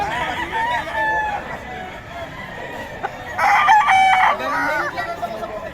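A rooster crows loudly nearby, a long drawn-out call, with other chickens clucking and faint chatter in the background.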